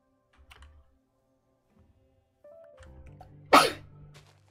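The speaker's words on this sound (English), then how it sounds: "Oh, that was a weird sneeze." A single sharp sneeze bursts out near the end, loud and close, after quiet stretches of faint computer keyboard typing and clicking in a storage room.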